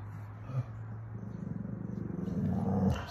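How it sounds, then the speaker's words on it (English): A small dog, likened to a walking bratwurst, gives a low continuous growl that builds steadily over a few seconds, close to the mic with no talk over it. "That's my dog Cheesecake."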